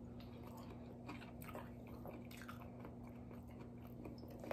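Crunchy food, including a California roll, being chewed and bitten close to the microphone during an eating session, with soft repeated crunches over a steady background hum.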